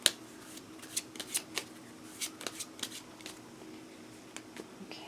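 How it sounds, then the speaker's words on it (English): A deck of inspirational message cards being shuffled by hand, a series of quick, close riffling bursts separated by short pauses, fairly quiet and alone. "I'll shuffle it a bit more."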